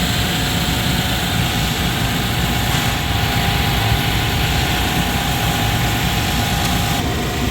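Chevrolet Silverado, GMC Sierra or Tahoe truck engine idling after a thermostat housing replacement, a steady, continuous drone heard close and alone.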